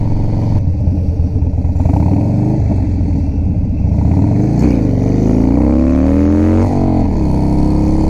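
A motorcycle ridden on a road rumbles loudly and close, its engine note rising and falling through several throttle pulls as it accelerates, with wind buffeting and no speech.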